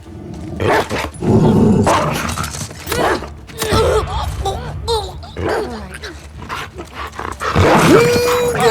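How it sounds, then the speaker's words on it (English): A dog in The Last of Us Part II growls and barks in loud, repeated bursts with whimpering cries, mixed with game sounds and someone talking over it. "Oh, the dog came inside."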